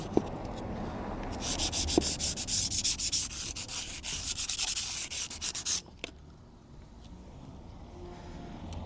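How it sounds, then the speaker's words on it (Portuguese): Hand sanding of a surface on a motorhome during a solar panel and controller installation, a steady rasping scrub in quick repeated strokes for about six seconds, fairly close, then stopping into quiet room tone. "Lixar isto é para aderir melhor."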